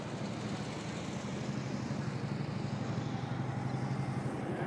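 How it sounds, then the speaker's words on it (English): A helicopter flies over the Hoover Dam, heard as a steady distant rumble with a faint pulsing chop, holding level against the wide open air of the site. "let me pick up this helicopter"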